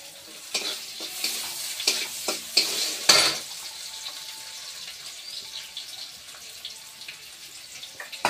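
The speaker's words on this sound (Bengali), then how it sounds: "এই শুকনো লঙ্কা দিয়ে দিচ্ছি তেলে। তো পেঁয়াজ কষা দিয়ে দিচ্ছি।" Dried red chillies and onion frying in hot oil in a home kitchen pan, with a steady low sizzle broken by several sharp stirring scrapes and clatters early on, then a quieter continuous crackle.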